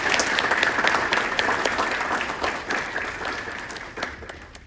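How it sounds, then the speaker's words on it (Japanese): Audience applause fills a hall at the close of a lecture at a joint Japan–Korea symposium on the comfort women issue, a dense, steady wash of clapping that slowly thins and fades over several seconds. "もう一度拍手をお願いいたします"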